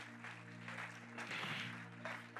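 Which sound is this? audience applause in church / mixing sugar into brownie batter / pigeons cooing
audience applause in church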